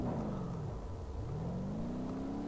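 A car engine in BeamNG Drive drag racing drops briefly in pitch, then climbs again as it accelerates hard, a loud steady drone with no voices.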